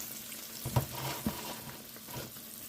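Sweet potato pies fry in oil in a pan with a soft, steady sizzle, broken by two gentle knocks early on, heard close and fairly quiet.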